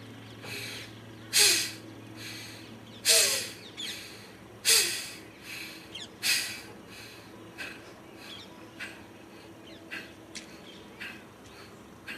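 Forceful rhythmic nasal exhalations during a pranayama breathing exercise, a series of sharp loud puffs that gradually grow softer and more frequent, heard close with no talking.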